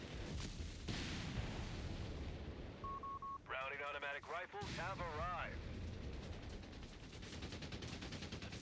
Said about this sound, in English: Halftrack opening fire.